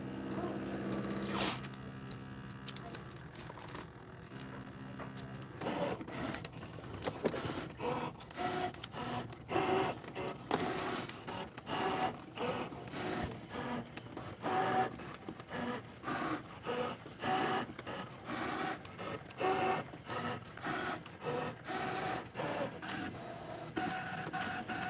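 A Brother ScanNCut cutting machine whirs and buzzes through straight cuts, then taps out rapid repeated bursts while scoring dotted lines, close and continuous over about twenty-five seconds.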